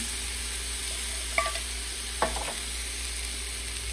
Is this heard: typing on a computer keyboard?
no